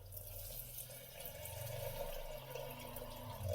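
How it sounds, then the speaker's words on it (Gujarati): Water, about two cups, poured into a pressure-cooker pan of spiced stuffed brinjal and potato curry, a continuous close gurgling pour with sizzling underneath. "હવે મિત્રો આપણે એમાં પાણીનો વઘાર કરી લેશું."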